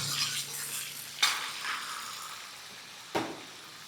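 About ten dried red chillies hitting hot oil with chana dal for tempering mint rice, a close continuous sizzle punctuated by two sharp clanks of a spoon against the pan.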